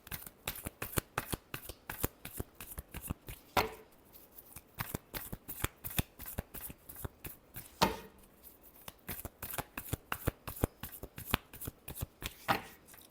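A deck of cards riffled and shuffled repeatedly in quick crisp bursts, close and clear with brief pauses between runs, and no talk over it.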